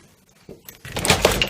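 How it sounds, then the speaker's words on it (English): A Nissan Leaf car door being opened outdoors, a brief mechanical clunk and rustle building to a louder burst near the end. "just open the door."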